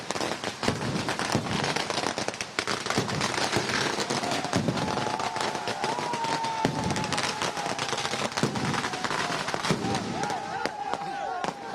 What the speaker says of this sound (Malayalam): ഇവിടെയൊക്കെ ഭയങ്കര രീതിയിൽ ഗുണ്ടും പടക്കവും എല്ലാം തയ്യാറാക്കിയിട്ടാണ്